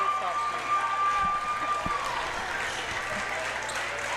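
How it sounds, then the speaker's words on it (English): Student section applause and crowd noise at a high school boys basketball playoff game, Neshannock versus Fort Cherry, moderate clapping under a broadcaster's commentary. "Entire student section for Neshannock with a round of applause."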